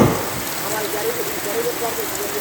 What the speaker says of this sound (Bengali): আজকের সন্ধ্যার বৃষ্টিটা যেন হাজারো গল্পের এক মিলন মেলা